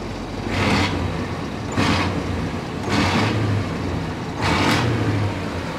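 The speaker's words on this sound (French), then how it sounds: "Alors, camion avec échappement vertical." A truck fitted with a homemade vertical exhaust stack is revved four times at a regular pace, each short throaty burst rising above a rumbling idle, close by with no talking.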